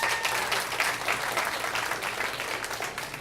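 A comedy show audience bursts into applause in response to the comedian's question, a dense, continuous wash of clapping heard close and loud throughout.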